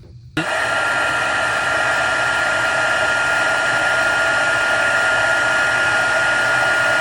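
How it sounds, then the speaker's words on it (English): A heat tool blows steadily and loudly, switching on abruptly and roaring with a continuous whirring hiss as it heat-sets stamped ink on a card, close and unbroken for the rest of the clip. "and then we're going to heat set that."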